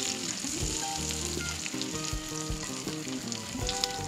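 Dates frying with chilies and ginger in a pan, stirred steadily: a constant close sizzle and crackle with scraping spoon strokes, no talking.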